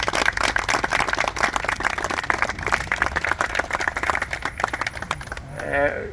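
A crowd applauds at the unveiling of a famine memorial stone in Shankill graveyard, Belfast, with dense, steady clapping filling most of the stretch before a voice begins speaking near the end.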